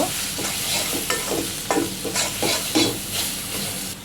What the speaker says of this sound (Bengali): সবগুলো একসাথে ভালো করে নাড়াচাড়া করে দেব